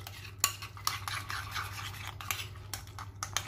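A utensil stirring homemade hamburger sauce in a bowl, close scraping and swishing strokes with a few sharp clicks against the container, repeated in an uneven rhythm with no voice.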